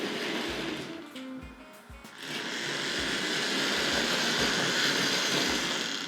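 A Tri-ang Hornby R.653s Continental tank locomotive runs on model track with a buzzing motor whir, preceded by a few faint rhythmic clicks and a short stutter as it catches on the track.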